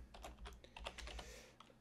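Rapid typing on a computer keyboard while entering Python code, a close, steady patter of individual key clicks with uneven rhythm and no voices.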